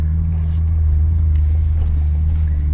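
Jeep Comanche pickup with a swapped Vortec 4200 engine driving through a roundabout, a loud continuous low engine drone with steady exhaust rumble heard up close, no talking.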